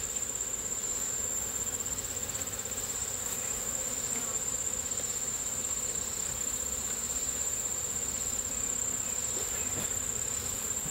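Honeybees swarm around an open hive during an inspection, a dense continuous buzz close and steady throughout, with no talking.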